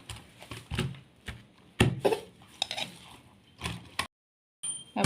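Hilsa fish tail being mixed by hand with mashed ingredients, coriander leaves, salt and mustard oil in a bowl; irregular soft squelches and clinks come in short bursts, close, with a brief silent gap.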